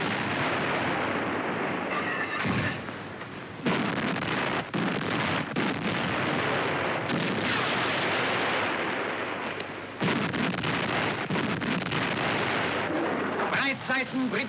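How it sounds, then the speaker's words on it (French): Coastal batteries on the Atlantic Wall trade fire with British warship guns, a loud, dense and continuous roar of blasts rumbling under heavy wind buffeting, with voices faintly mixed in. "Das Gefecht zwischen Küstenbatterien und Schiffsartillerie ist im Gange."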